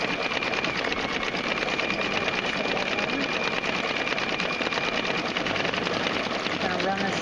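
A Brother Quattro II embroidery machine sews a running stitch, a rapid, steady mechanical chatter that stays loud and continuous throughout with no voices over it.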